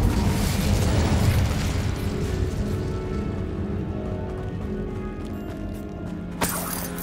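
A fire spell cast in the video game Hogwarts Legacy: a loud, sustained roaring burst of magical flame that fills the opening seconds and slowly fades, with a brief sharp crackle near the end.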